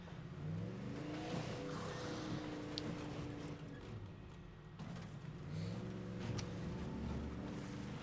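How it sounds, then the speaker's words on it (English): A car in the video game State of Decay 2 driving fast while escaping, its engine droning and revving steadily throughout with tonal shifts as it accelerates, fairly quiet in the mix. "Barely escaping with our life in the car."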